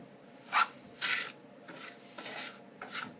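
Potassium nitrate and sugar stirred in a saucepan over low heat, a few scraping, rasping strokes of a utensil against the pan at close range.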